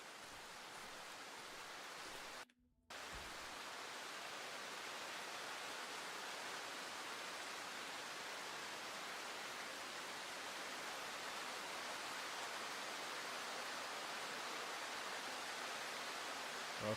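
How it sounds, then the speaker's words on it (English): Steady rain pours down in a video game, a dense, even hiss that runs with no talk and breaks off for a split second early before resuming at full strength. "it's raining?"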